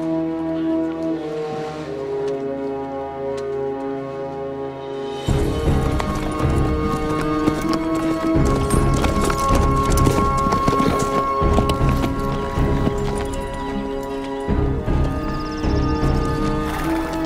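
Steady clip-clopping of horse hooves on a town street over a rumbling, busy background, loud and close, continuing without pause.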